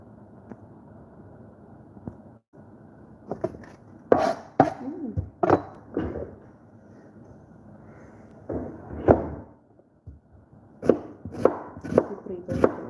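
A knife chops an onion on a board in a home kitchen during biryani preparation: close, irregular thuds in short bursts with pauses between them.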